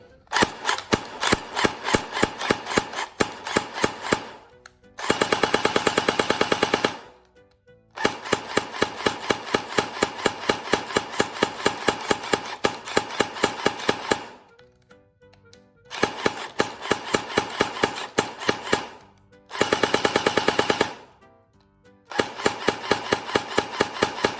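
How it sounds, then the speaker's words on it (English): A JinMing Gen 9 M4A1 gel blaster, just repaired after a trigger lock fault, fires long rapid full-auto bursts of sharp mechanical clatter, broken by short pauses and a few brief whirring gaps, loud and close with no talking. "The blaster is back to full functionality again."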